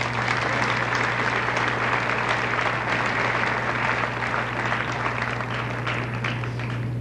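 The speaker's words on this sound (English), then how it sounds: "I think Ken deserves a round of applause." Sustained audience applause fills a school junior high graduation ceremony, a dense, steady wash of many hands clapping at even loudness for the full stretch, with a low constant hum underneath.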